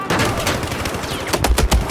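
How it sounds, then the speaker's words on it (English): Machine gun fire in the video game Battlefield 4, a loud continuous burst of rapid rounds with denser heavy shots toward the end, no talking over it. "I got a freaking machine gun that shoots 800 rounds."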